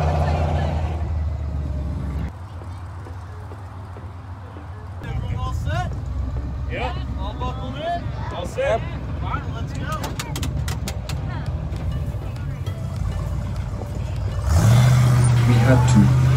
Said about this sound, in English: On board the monster truck and ready to rock and roll.